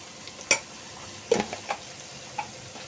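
Capsicum fry is stirred in a pan, with a few sharp spoon clicks and scrapes against the metal spaced across a quiet background of faint sizzling.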